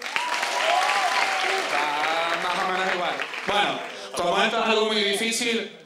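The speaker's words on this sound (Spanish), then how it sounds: "Aplauso para José." A crowd claps for José after a tied contest at a group event in Las Palmas, the applause held throughout while people talk loudly over it.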